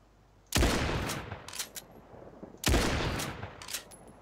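Two loud, booming sniper rifle shots from the Battalion 1944 game's training yard, each a sharp crack with a long rolling tail, spaced about two seconds apart.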